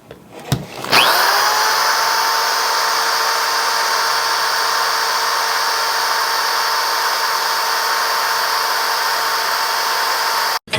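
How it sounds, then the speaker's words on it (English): A power drill bit grinds steadily into a 25 lb quartz gemstone bowling ball, a loud, continuous high-pitched whine that starts abruptly and holds unchanged for about ten seconds before cutting off. "I'm going to give it like a minute and see what kind of progress we can make with this drill bit."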